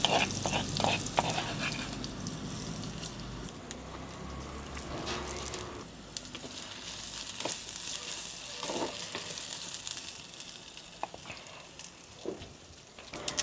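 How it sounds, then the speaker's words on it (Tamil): Anchovies hit well-heated oil in a pan, a loud, dense sizzle at first that settles into a quieter, steady crackle with occasional stirring sounds. "இப்போ எண்ணெய் பார்த்திங்கன்னா நல்லா சூடாகிட்டு இதுக்குள்ளே நாங்கள் நெத்தலியை போட்டுருவோம்"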